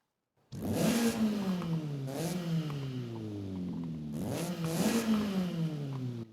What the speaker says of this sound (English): here's the stock engine